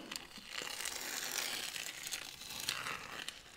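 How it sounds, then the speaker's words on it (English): Masking tape being peeled off an acrylic knife painting, a continuous crinkling and tearing rasp lasting a few seconds, close and fairly quiet, with no voices. "we'll just peel this tape off with how it goes"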